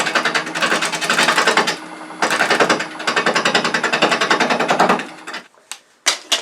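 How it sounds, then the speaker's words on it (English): Heavy bowl gouge cutting into bug-infested cherry burl spinning on a wood lathe, a loud rapid chattering rasp in several long bursts with brief pauses, ending in a few separate sharp knocks. "I think this time I'm going to use a little heavier bowl gouge to handle that."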